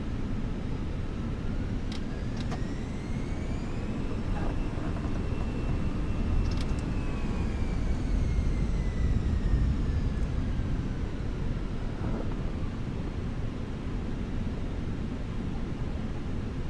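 Airbus A320 engines spooling and roaring through a takeoff roll in Microsoft Flight Simulator 2024, a steady broadband rumble and hiss with faint rising whines, continuous and even in level throughout.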